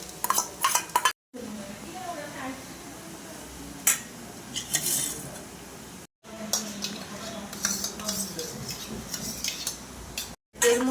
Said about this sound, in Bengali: রসুন কুচিটা আর হচ্ছে আদা কুচিটা দিয়ে দিলাম এটা মিডিয়াম আছে দিয়ে হালকা করে ভাজতে রাখবো